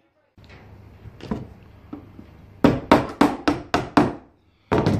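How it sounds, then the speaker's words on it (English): Short rivets are hammered into a Memphis Belle B-17 nose art panel. A few light taps come first, then a quick run of six sharp, loud hammer strikes, a pause, and one more close blow. "we start fixing the rivets in, trying not to hit your fingers"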